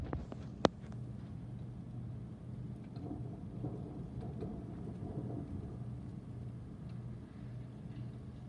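A deep, sustained thunder rumble rolls through a thunderstorm with steady rain, opening with one sharp crack and then a long, low, continuous roar.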